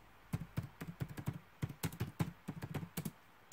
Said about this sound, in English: I guess I'm typing with one hand